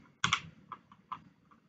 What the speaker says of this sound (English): I've been typing too much.